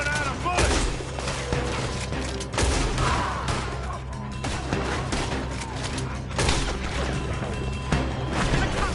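Rapid, overlapping gunfire of a Red Dead Redemption 2 shootout, with repeated loud shots and bursts running continuously throughout, mixed with crashes and shouted voices underneath.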